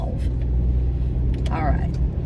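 Steady low rumble inside a moving car fills the cabin, with a brief voice-like chirp partway through and no clear words.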